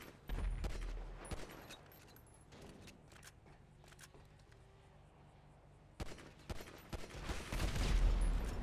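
Pistol gunfire rings out in GTA 5 gameplay, a string of sharp, scattered shots at varying distances, some faint and some louder, with a heavier burst of fire near the end.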